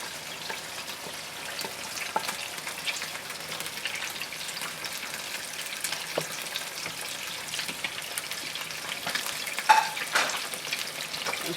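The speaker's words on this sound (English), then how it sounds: "And I'll add the okra." Okra fries in a pot for okra stew, giving a soft, constant sizzle broken by occasional scraping clicks from stirring, all fairly quiet and close.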